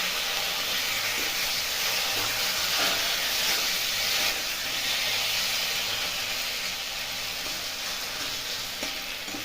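Fried potatoes being sautéed in a cooked spice masala for Bengali-style niramish dum aloo, giving a steady close sizzle and frying hiss with faint stirring scrapes throughout, no voices.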